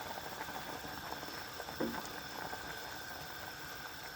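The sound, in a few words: water boiling vigorously for pork sinigang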